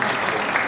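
Audience applause fills the space at a steady, dense level, a crowd clapping continuously and evenly throughout at an arts and culture event.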